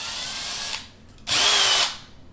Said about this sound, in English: I've got a 9/64 drill bit here, and I'm going to go from the back side through there